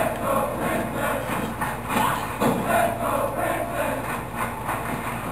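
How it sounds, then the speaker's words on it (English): Wrestling arena crowd cheering at a women's championship match in the garden, a steady loud roar of many voices with rising swells and shouts, sustained throughout. "The crowd is into this match. The crowd is electric here in the garden."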